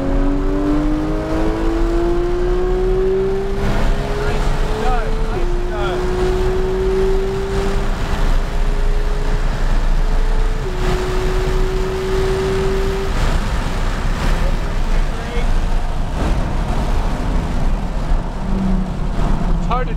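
A Porsche 933 drives on a race track in a driving experience, its loud engine note climbing steadily and stepping down at each gear change, heard up close from inside the car.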